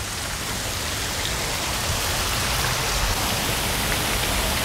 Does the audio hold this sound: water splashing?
yes